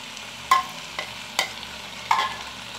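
Ground mint paste stirred into chicken biryani masala frying in a pot, with three or four distinct spoon scrapes and clacks over a soft, continuous sizzle, close and clear.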